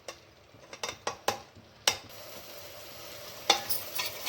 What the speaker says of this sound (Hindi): अब इसको हम लोग 8 मिनट तक भूंज लेंगे।